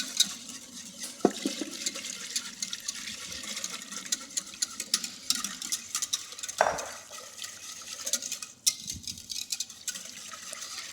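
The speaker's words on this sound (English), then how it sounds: "you want to stir pretty vigorously so that it doesn't lump up on you" Turkey gravy is stirred vigorously in a pan, giving a continuous wet sloshing and scraping with a few sharper knocks against the pan. It is close up, with no talking.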